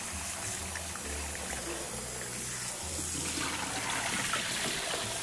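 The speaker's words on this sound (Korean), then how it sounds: "그럼 요거를 한번 씻어 오겠습니다." Running tap water washes napa cabbage leaves for Korean cabbage pancakes, a steady rushing splash close by with faint shifting as the leaves are handled, no talking.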